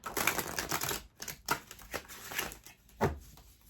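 A deck of Archangels and Gemstones oracle cards is shuffled by hand: close, rapid rustling and flapping in several uneven bursts, with no talking.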